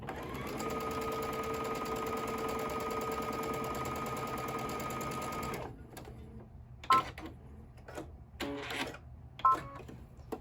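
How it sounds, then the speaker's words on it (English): A sewing machine stitches a diagonal quilt seam, humming in a fast, steady whir for over five seconds, then stops, leaving a few quiet clicks and handling sounds. "And I'm going to sew that diagonal line."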